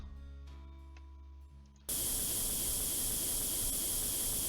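A spray gun in Tank Mechanic Simulator starts up with a sudden loud, steady hiss while painting a Tiger tank, cutting in after a quieter mechanical hum and continuing unbroken to the end.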